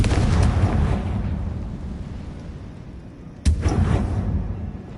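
A Confringo spell explosion in Hogwarts Legacy, heard as a booming blast that decays into a rumbling tail, followed later by a second sharp, loud detonation.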